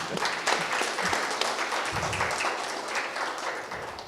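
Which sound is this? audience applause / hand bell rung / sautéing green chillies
audience applause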